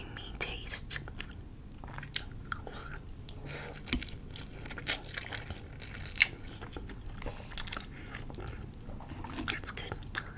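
Close-miked ASMR mukbang eating of spicy fire noodles and fried chicken, with fries picked up by chopsticks: steady wet chewing, soft crunchy bites and mouth clicks throughout, with faint whispered speech mixed in.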